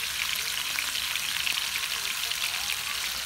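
Beef steak rolls sear in a hot pan, giving a steady, dense sizzle that holds at an even level throughout, close up with no voices.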